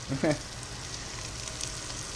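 Sausages fry in a pan, giving a steady, soft sizzling hiss after a brief louder crackle at the start.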